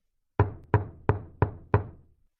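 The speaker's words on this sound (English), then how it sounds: "He knocked on the door." Five firm, evenly spaced knocks on a wooden door, close and loud, with each hollow thud decaying quickly into silence and no talk around them.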